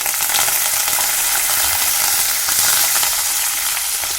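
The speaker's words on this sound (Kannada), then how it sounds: "ಸ್ವಲ್ಪ ಫ್ರೈ ಮಾಡ್ಕೊಳ್ಳೋಣ" Green chilies and curry leaves fry in a hot pan for vegetable upma, giving a loud, steady, dense sizzle that holds evenly throughout with no voices.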